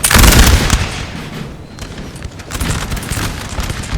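Musket volleys in the Napoleon Total War video game during the 1814 Battle of Orthez, dense crackling fusillades layered over one another, loud and continuous with distant rolling battle noise.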